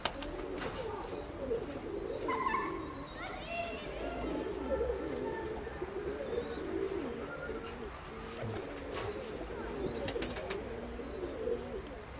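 Pigeons at a dovecote coo steadily at mid distance, with scattered chirps and a faint rustle of wings mixed in over a continuous, even background.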